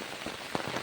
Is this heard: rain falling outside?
yes